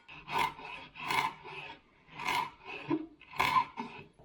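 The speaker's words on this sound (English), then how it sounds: "I'm just going to chop this thyme up real quick." A knife chops fresh thyme on a board in four or five separate rasping bursts, close and fairly quiet, each stroke scraping briefly with short pauses between.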